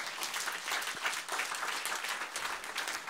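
A congregation applauds during a French-language church worship service, with broad, steady clapping that sustains for several seconds at moderate distance, dense and unbroken with no voices on top.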